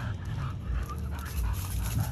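Pit bull dogs panting quickly and steadily on an outdoor walk, close to the microphone, with faint whimpers and ambient outdoor noise around them.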